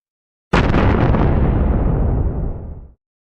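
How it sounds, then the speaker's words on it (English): Comic-book explosion effect for the Hulk striking the earth: a sudden, very loud blast that roars with heavy low rumble for about two seconds, then cuts off. "Striking the earth like a mighty meteor, the Hulk causes an explosion of unimaginable intensity."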